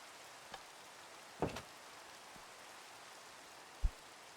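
Soft, steady rain in Minecraft, a faint hiss with a few scattered ticks and light knocks.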